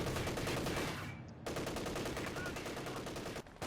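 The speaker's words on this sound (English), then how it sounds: "a lot of assault rifles and machine guns" Dense, continuous gunfire from assault rifles and machine guns in a Company of Heroes 2 battle rattles on loudly, with only a brief lull partway through.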